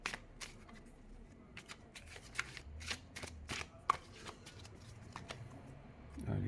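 A Mucha tarot deck shuffled by hand, a quick irregular run of crisp card riffles and slaps close up, fairly quiet with no voices.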